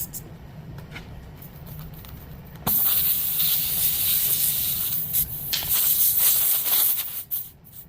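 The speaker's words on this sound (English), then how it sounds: "And spray some soapy water on there just to help go in." A spray bottle applies soapy water to a repaired tire, starting with quiet handling noises and then a steady close hiss that carries on for several seconds with short breaks.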